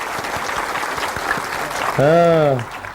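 An audience claps steadily in a polytechnic's main lecture hall, a continuous wash of applause topped near the end by a loud drawn-out shout from someone in the crowd.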